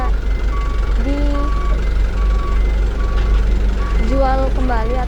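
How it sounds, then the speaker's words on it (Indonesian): Garbage trucks at the Antang landfill in Makassar sound reversing beeps: a steady repeating tone over a loud, constant engine rumble, with a person talking over it and rising whistle-like tones near the end. "Setiap hari ini sekitar ratusan truk-truk sampah yang mengambil seluruh sampah di kota Makassar dan membuangnya di sini"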